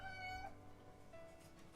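A pet cat gives a short, faint meow with a rising, then falling pitch, heard as a single brief call in a quiet room.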